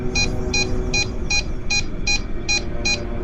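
A ghost meter beeps in a steady, repeating series of short, high electronic pulses, about nine evenly spaced beeps, moderately loud over a low background hum, with no talk.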